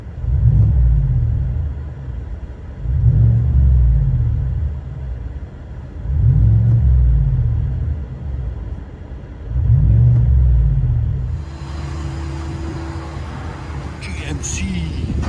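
Heard from inside the cab, a 2021 GMC Sierra AT4 with a 6.2L V8 and Flowmaster Super 10 dual exhaust rumbles deeply through four muffled revs in steady succession, then settles to idle as cabin noise rises.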